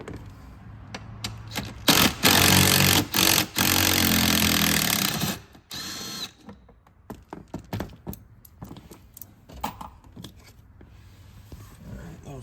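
A power tool drives out a 10 mm bolt fastening a panel to the dash of a Ford F250 truck, with several loud buzzing bursts in the first half, then quieter clicks, scrapes and handling noises.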